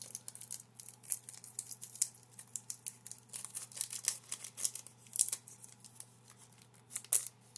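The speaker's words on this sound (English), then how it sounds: "Might need to grab the scissors to just open this one." Scissors snip open a Magic: The Gathering trading card pack up close, a quick irregular series of crisp, sharp cuts with small crinkles of the wrapper and no talking.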